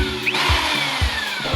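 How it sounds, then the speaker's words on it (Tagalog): A power drill bit bores into steel on a motorcycle handlebar job, giving a steady loud high whine and grinding with a faint rhythmic low knock beneath, close up and continuous. "kumakagat na nga yung talim ng ating barena dahil unti-unti nang lumalabas sa mga pulbos na ito at unti-unti na rin itong bumabaon sa ating bakal"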